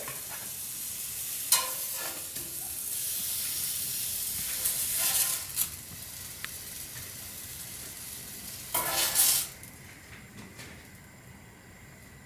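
Soft roasted tomatoes for salsa sizzle over an open fire, with a steady hiss and brief louder bursts as they are handled and pulled out.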